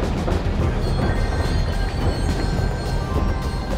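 Train passing in the video game Rust, a loud, continuous rumbling roar with faint high squealing tones running through it, steady for the whole stretch with no talk.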